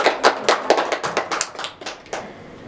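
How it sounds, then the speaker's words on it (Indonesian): A small group at a Pramuka scout anniversary event claps hands in a quick, uneven burst of applause that fades within a few seconds, heard up close. "tepuk tangan dulu dong"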